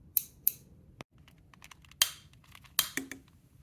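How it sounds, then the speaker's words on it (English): Scissors trim a candle wick in a quiet room, giving several crisp, sharp snips spaced irregularly, with small clicks and handling sounds between them. "We're going to go ahead and trim this wick first because it is too long."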